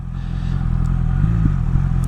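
A BMW S1000XR motorcycle engine hums loudly and steadily in second gear on a test ride, with a low throbbing drone and slight rises in pitch.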